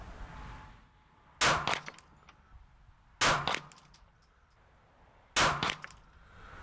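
Three loud, sharp pistol shots from a Canik P-10S ring out at evenly spaced intervals of about two seconds at an outdoor range, each with a short echoing tail over steady wind noise.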